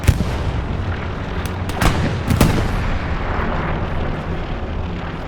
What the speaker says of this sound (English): There's an AT gun now in place.